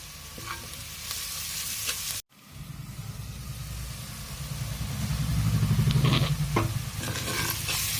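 Onions frying for a chicken curry: steady close sizzling and stirring in the pan, with a brief pause near the start and the sizzle growing louder toward the end, no talking.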